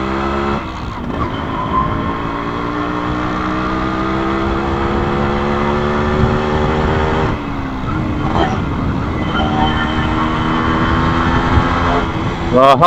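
A restored 1989 Yamaha RX100 two-stroke motorcycle engine runs steadily and loud throughout, its pitch rising and falling with throttle changes, with a brief dip and a few short surges near the end.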